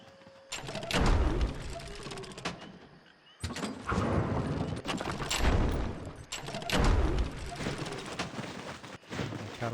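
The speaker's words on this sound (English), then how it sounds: "Catapults are firing away." Catapults firing in a medieval siege battle in the strategy game Thrive: Heavy Lies the Crown, loud repeated booming impacts and crashes in three heavy bursts with brief lulls between them.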